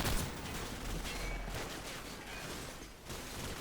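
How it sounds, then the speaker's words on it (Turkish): Kalashnikov rifle fire in Call of Duty 4: Modern Warfare, a dense continuous rattle of automatic shots with no talking, steady and fairly loud throughout. "Adamlar seni keleşle tarıyor sen tabanca mı çekiyorsun?"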